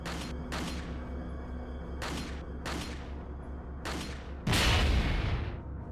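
A dynamite blast in the video game Resident Evil 4 erupts as a loud, broad burst near the end, following several sharp booming shots or impacts at a steady rhythm over a constant low hum.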